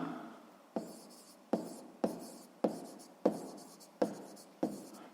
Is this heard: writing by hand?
yes